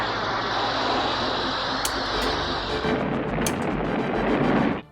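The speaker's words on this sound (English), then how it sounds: "Fire deep sea torpedo!" Deep sea torpedoes firing from an armored sea vehicle in an animated cartoon: a loud, dense whooshing rumble sustained for nearly five seconds with a couple of sharp bright bursts, ending in an abrupt cutoff.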